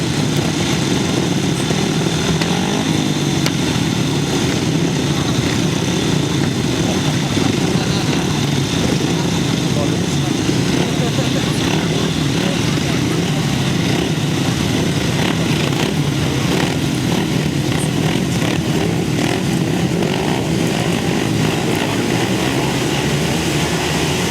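500cc solo grasstrack motorcycles on a race line at a trophy meeting give off a steady, loud engine roar that holds constant throughout, with a commentator talking over the noise.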